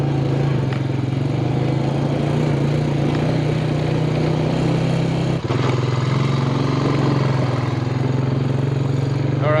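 A quad ATV engine runs steadily nearby at a low, even drone, with one brief dip partway through and no clear talking.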